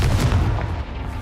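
A Confringo fire spell blast in Hogwarts Legacy, one loud, heavy, close booming impact with a quick rumbling decay.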